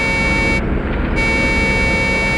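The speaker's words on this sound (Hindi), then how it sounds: "हॉर्न भी बजा रहा है।" A truck horn sounds in a forest setting as one long, loud, steady blare that holds for the whole stretch, a sustained tonal honk with no breaks.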